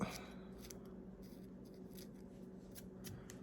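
Scissors snip repeatedly at the belly of an Everglades muddler fly during fly tying, giving a series of small, quick, close cuts over a quiet background.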